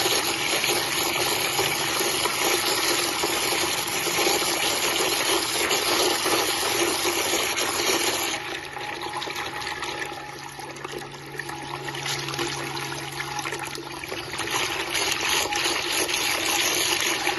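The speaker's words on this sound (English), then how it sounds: "this is the normal water pump." SHYSKY DC50F-24150S 24VDC 80W micro water pump pushing water in a bucket, a loud steady splashing gush with motor hum that dips and eases midway before returning to full flow, with no voices.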